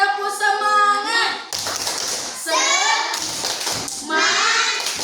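Schoolchildren in a classroom clap out a rhythmic tepuk semangat chant, sharp near claps in short bursts alternating with group voices chanting along.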